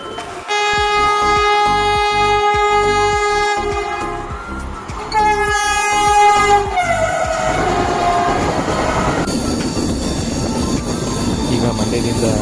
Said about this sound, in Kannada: ಈಗ ಮಂಡ್ಯದಿಂದ ಟ್ರೈನ್ ಬೆಂಗಳೂರು ಕಡೆ ಹೋಗ್ತೀವಿ.